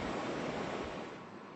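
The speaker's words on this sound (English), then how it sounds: "the wind through the trees, the sound of the ocean" A brief, steady wash of ocean surf and wind, a broad rushing roar that fades slightly toward the end, heard alone without any voices.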